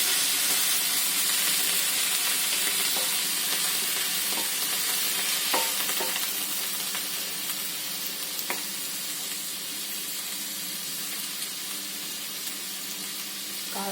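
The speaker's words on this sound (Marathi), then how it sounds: "तोही आपल्याला छान सॉफ्ट होईपर्यंत परतत राहायचं" Tomatoes sauté in a pan under a loud, continuous hiss of sizzling. Occasional faint clicks of a spatula stirring sit inside the sizzle.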